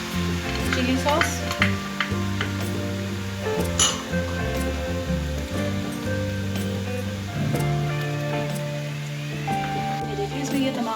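Spring roll filling of chicken and vegetables fries with soy sauce and chili sauce, a loud continuous sizzle with frequent clinks and scrapes of a utensil against the pan, no voices over it.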